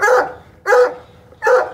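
Three loud barks from a pup at a caged raccoon, evenly spaced about three-quarters of a second apart, close by with little else around them.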